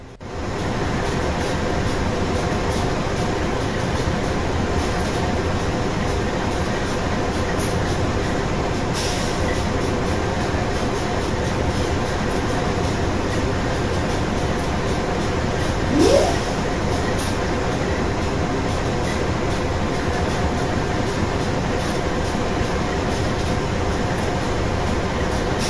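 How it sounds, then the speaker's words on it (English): An Amtrak GE Genesis P40DC locomotive and its train roll past at Berwyn near Chicago in Train Simulator, a loud, continuous rumble of wheels and cars with faint squeals and a few brief clanks. "And the other locomotive is an Amtrak GE Genesis Series P40DC."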